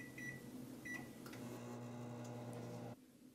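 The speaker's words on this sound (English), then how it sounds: "put it in the microwave for 4 minutes." A microwave oven hums steadily with a low drone, a few faint clicks and rattles along the way, then cuts off abruptly near the end.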